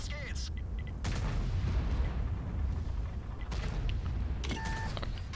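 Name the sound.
tank cannon shot in World of Tanks video game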